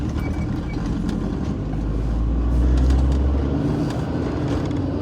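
A car engine runs in 20-degree cold weather, a low steady rumble heard from inside the vehicle that swells slightly midway, with no voices.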